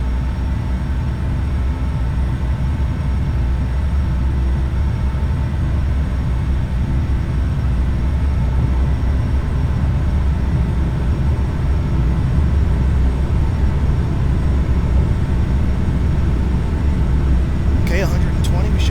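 CRJ jet engines roar at takeoff power through a long, steady rumbling drone that holds throughout, with a faint rattle and click near the end.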